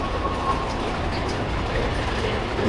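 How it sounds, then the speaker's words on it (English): Big Thunder Mountain Railroad roller coaster train at Disneyland, heard as a steady, close, loud rumbling clatter of the ride with no voices over it. "Up next is Big Thunder Railroad."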